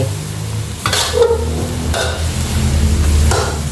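Luffa (ridge gourd) stir-fried in a hot pan, a steady close sizzle with a few sharp scraping strokes of the spatula at intervals and no voices.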